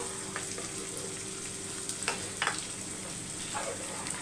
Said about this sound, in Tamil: சர்க்கரை கொதிக்கிட்டோம்.